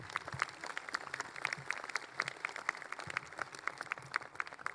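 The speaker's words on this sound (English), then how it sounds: "If we could have a round of applause for them." Outdoor audience at a Veterans Day observance claps in scattered, uneven bursts, fairly faint and distant, with sharp individual claps standing out over a soft background.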